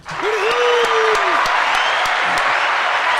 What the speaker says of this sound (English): If you would, ladies and gentlemen, a big hootie hoo for Greer.